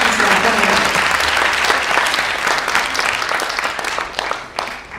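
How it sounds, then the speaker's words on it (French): Convention audience at a pop-culture panel in Toulouse breaks into sustained applause, a loud, dense wash of clapping from many hands that holds for several seconds before thinning slightly at the end. "J'aimerais qu'on l'applaudisse s'il vous plaît."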